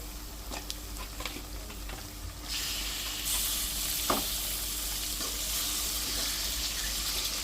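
Half a kilo of chicken tipped into a hot pan with garlic and turmeric, a quiet stir giving way to a sudden loud, sustained sizzle with a spatula knock partway through.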